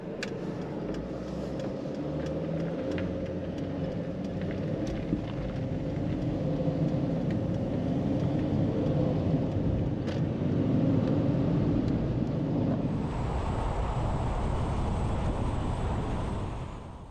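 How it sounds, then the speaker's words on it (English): Fast highway traffic on US Route 95 in Nevada, heard from inside a moving car as a steady road rumble and engine drone with passing-vehicle swells, no talking. "It's pretty fast paced and there is a lot of traffic"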